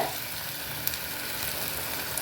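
Okra, green chilli and onion sauté in a pan with a steady soft sizzle, a faint continuous frying hiss with a couple of small crackles, no talking.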